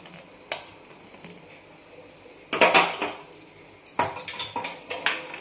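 A spoon scraping and clinking against a pot while milk and roasted vermicelli are stirred for sheer khurma, with sparse knocks early and a quick run of clatters toward the end.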